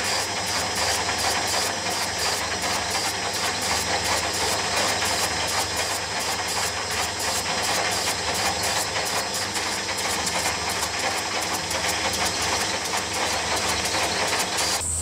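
A lathe takes extremely light cuts through powder coat on an aluminium plate, giving a continuous, even mechanical whir and hiss that runs steadily throughout.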